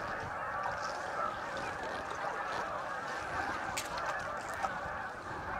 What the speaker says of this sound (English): Yeah, there's just thousands of geese out here.